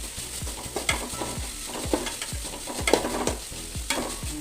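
Onions frying and being stirred in a pan for egg biryani, a steady sizzle broken by repeated scraping stirs roughly every half second, close and fairly loud with no talk.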